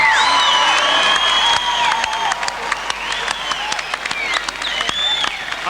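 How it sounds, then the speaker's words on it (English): Crowd applause with cheers and whoops at a 1985 telethon in a town hall, loud sustained clapping with whistles weaving through it as the noise gradually eases. "a big round of applause for our special guest,"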